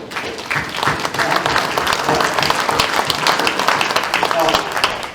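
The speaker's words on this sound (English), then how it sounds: "So give yourselves a round of applause for what you've done." An audience at a motivational business talk gives a round of applause, a dense steady wash of clapping that fills the whole stretch at even loudness.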